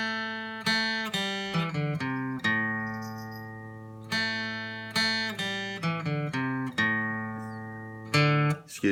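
Plucked guitar notes pick out the Cuckoo folk melody in a lesson setting, each note ringing and decaying in a steady, unhurried phrase, close and moderately loud with no talking.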